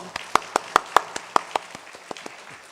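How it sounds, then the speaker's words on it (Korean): A few people in a Sunday church service congregation clapping, sparse sharp individual claps about every fifth of a second, close and fading toward the end. "박수 한번."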